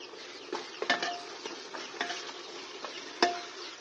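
A spoon scrapes and clinks around a pot as haleem is stirred together with spice paste, steady stirring with a few louder knocks against the metal, soft sizzling beneath, no voices.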